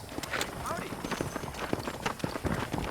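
Horse hooves gallop in a rapid, continuous clip-clop rhythm in the Red Dead Redemption video game, mixed with dense game ambience at moderate loudness.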